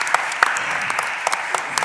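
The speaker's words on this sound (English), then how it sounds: "Could we give her a round of applause for stepping up in this space?" An audience at a public health and human services committee meeting claps for the committee chair, producing a brief burst of steady, dense applause with a few sharper individual claps.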